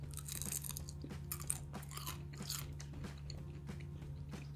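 Someone bites and chews a crunchy baked treat made from a single ingredient, with a quiet series of close, crisp crunches in irregular rhythm against a low steady hum.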